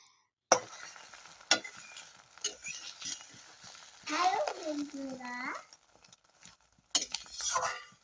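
An egg dropped into hot oil in a wok sizzles in sharp bursts, with a spatula clinking and scraping against the metal as a person talks over the frying.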